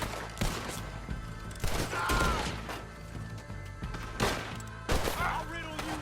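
Gunfire in the video game Red Dead Redemption 2: several sharp, loud shots burst out at irregular intervals amid mechanical clatter, with some voices in the background.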